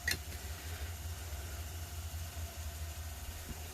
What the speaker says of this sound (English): I have my heat gun handy, which I am just going to use mostly for blowing air